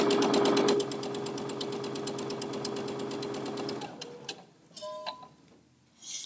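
Sewing machine backstitching a quarter-inch seam on a zippered fabric bag, a fast steady mechanical needle chatter close up that stops, then a few light clicks and handling noises.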